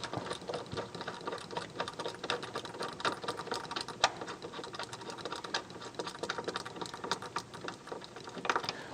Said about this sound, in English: with a T50, go ahead and remove this bolt.